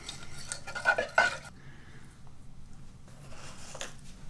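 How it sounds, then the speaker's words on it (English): A spoon stirs pre-soaked jasmine rice with spices in a pot, giving a few scraping, clinking strokes against the metal in two short bursts separated by a quieter pause. "Go ahead and stir that around a little bit."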